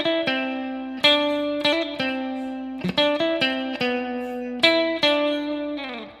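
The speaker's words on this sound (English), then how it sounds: "Now the second harmony guitar comes in, sounds like this." Second harmony guitar line on distorted electric guitar, played alone: sustained picked notes in short phrases with sharp attacks, ending on a ringing bend.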